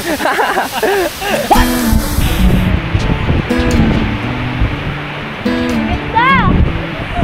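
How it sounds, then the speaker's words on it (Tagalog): A waterfall in Bohol rushes as a steady broadband wash beneath near, lively voices chatting throughout. "Ang ganda ng falls."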